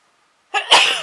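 A single close, loud sneeze by a woman working at a craft table on an Easter card, with a short indrawn breath before the explosive burst.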